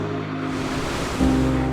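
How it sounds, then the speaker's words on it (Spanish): Surf at Arrifana, a long beach, rolls in as a continuous roar of breaking ocean waves with wind, swelling slightly louder partway through and heard without voices. "donde cada onda de mar abarca casi la totalidad de los más de 600 metros de longitud de esta playa antes de perderse en la orilla"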